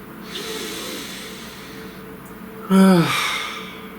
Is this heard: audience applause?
no